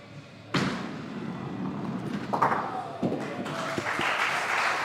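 At a skittles match, a sharp knock of pins is followed by a thumping ball and a rising patter of clapping from a small crowd at moderate distance. The applause swells toward the end.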